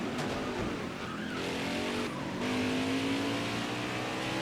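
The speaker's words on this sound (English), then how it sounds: "he's totally spun out" A NASCAR Heat 5 race truck spins out at Iowa Speedway, with loud tire squeal skidding across the track over a steady roaring engine, the squeal rising and sliding in pitch for several seconds.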